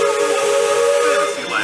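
Steam locomotive Fred Gurley #3 sounds its new steam whistle, a loud, steady chime sustained for nearly two seconds with hiss underneath, heard close from a passenger car riding behind.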